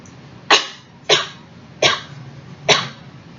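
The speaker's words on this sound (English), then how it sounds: "I wasn't holding that cough back the entire time" Four harsh, loud coughs come in a steady series, each about a second apart, close up with no talking.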